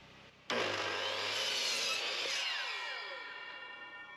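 A saw bites into a tongue-and-groove soffit board with a sudden start and a loud, sustained cutting whine that slowly fades over several seconds, heard close and with no talk.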